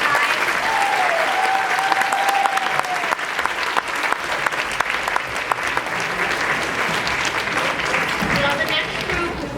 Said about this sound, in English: One more round of applause for the kids of Mr. High.